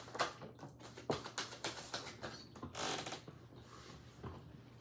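Rapid, crisp riffling and slapping of a tarot deck in repeated bursts, close and fairly quiet, with brief pauses between shuffles.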